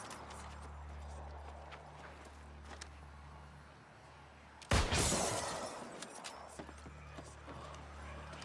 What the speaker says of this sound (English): I heard some hoofbeats behind me